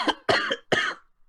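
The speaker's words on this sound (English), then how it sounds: "You made me cough." Three sharp, dry coughs in quick succession, close and fairly loud, followed by a brief quiet breath.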